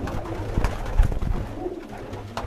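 Young pigeons on a rooftop coo in short low bursts, fairly close and clear, with a couple of soft thumps of wings or feet between calls and no voices.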